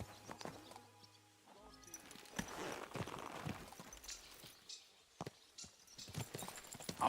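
Horse hooves clip-clop at a walking pace in the medieval game Kingdom Come: Deliverance II, a string of sharp, fairly close knocks over a quiet bed of low tones and faint ambience.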